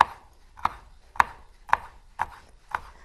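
Knife chopping through vegetables for an Italian salad on a cutting board: six crisp, evenly spaced cuts, close and moderately loud, with no talking.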